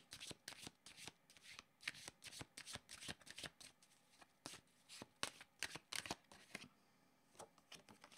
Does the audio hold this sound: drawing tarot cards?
yes